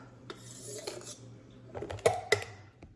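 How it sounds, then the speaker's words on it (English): Spices with half a teaspoon of salt being mixed together in a bowl for a hot chicken recipe, heard as a few scattered clinks and scrapes of a utensil against the dish, quiet at first and louder toward the end. "Now mix until all together."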